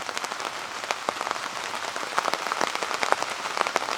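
Storm rain patters densely on a tarp shelter beside a campfire, a close, busy crackle of countless drops with sharper individual hits scattered throughout.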